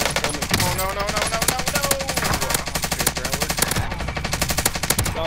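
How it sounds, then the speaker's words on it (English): Rapid automatic gunfire in a video game gunfight, loud and continuous, with dense overlapping bursts filling the whole stretch and no pauses. "I'm gonna go in and engage in this gunfight"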